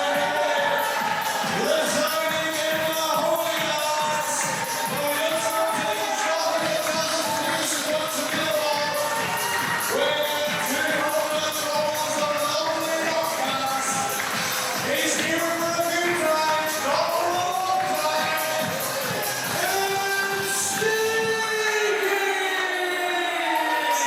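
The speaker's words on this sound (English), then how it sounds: "The crowd giving Steeky a warm reception here" A wrestling crowd cheering a returning wrestler at a live show, a dense, loud roar of voices and whistles sustained throughout, with music-like tones mixed in and a brief drop near the end.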